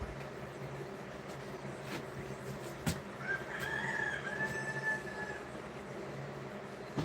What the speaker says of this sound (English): You guys can hear my roosters in the background